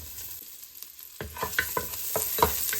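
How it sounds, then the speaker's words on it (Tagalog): Garlic sizzles in oil in a pan while browning for a homemade beef stew. A soft hiss opens, then louder sizzling starts partway through, broken by a series of rhythmic stirring scrapes close by. "garlic. Let it brown."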